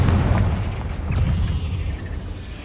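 A Confringo spell blast in Hogwarts Legacy erupts as a loud, deep booming explosion that rumbles and slowly fades over a couple of seconds, with no talking.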